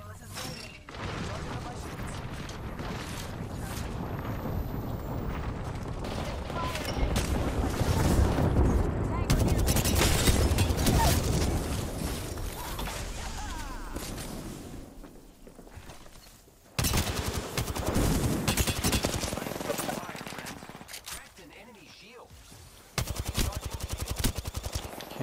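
Gunfire in the video game Apex Legends during a ranked match, with dense automatic bursts and rapid shots running almost continuously, broken by brief lulls, while a voice talks over the action.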